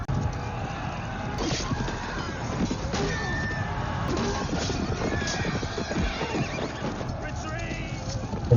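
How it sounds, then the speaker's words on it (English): Horses gallop with busy hoofbeats and occasional neighs amid a noisy, chaotic battle scene from the 1995 film Braveheart, with voices mixed into the din. "All the horses are coming in."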